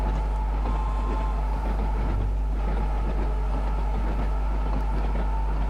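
A class 484 train in Train Sim World 2 rolls on toward Shanklin, a steady low rumble with faint rhythmic clatter throughout, no voices.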